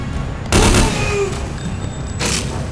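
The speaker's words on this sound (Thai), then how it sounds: "ปืนกลป้อมปืนอ่ะตัวอันตรายเลย" A turret machine gun fires in the video game Counter-Strike Condition Zero Deleted Scenes, two loud rapid bursts of gunfire separated by a pause, close and booming over steady in-game background noise.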